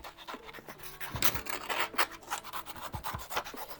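Small kitchen scissors cutting through a paper drawing, with close, rhythmic snipping and scraping strokes that come in quick bursts.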